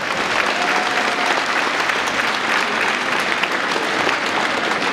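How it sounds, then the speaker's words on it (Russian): Steady, dense applause from an audience honouring teachers at a celebratory event, loud and continuous throughout with no pauses or voices over it. "я прошу ее встретить аплодисментами"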